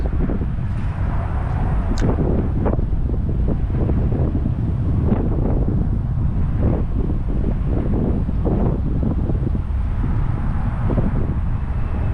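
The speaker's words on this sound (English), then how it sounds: "The wind is irredeemable." Strong wind roars across the microphone while fishing outdoors near water, a loud, continuous low buffeting rumble with occasional gusty surges and faint clicks, with no voices.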